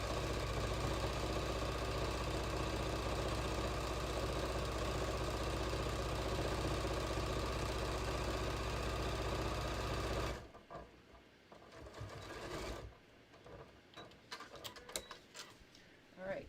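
A sewing machine edge stitches along the seam of a beach tote, running loud and steady with a fast even hum for about ten seconds, then stopping, followed by quieter handling clicks and rustles.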